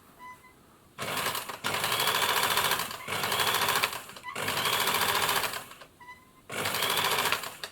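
A Bernina 810b sewing machine runs in several bursts with short pauses between, a loud rattling clatter from the mechanism each time it stitches, the noise coming with the shuttle fitted.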